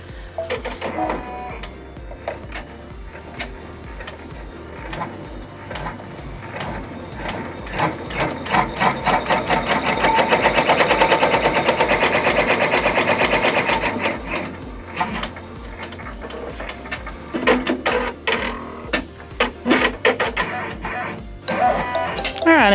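A multi-needle embroidery machine stitching out a test design, loud rapid rhythmic mechanical clatter of the needles that swells and continues steadily with no talk over it.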